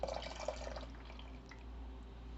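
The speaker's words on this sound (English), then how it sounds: "But what you do is you put the lemon juice in the hot milk. Here it goes." Lemon juice pours into a pot of hot milk for fresh ricotta, a brief soft liquid splash and trickle at the start that fades into a low steady kitchen hum.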